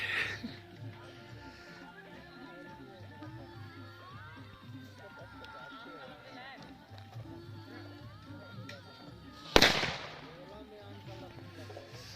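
At a Chhath Puja celebration, one sharp, loud firecracker bang bursts near the end, over a steady background of outdoor voices and crowd noise.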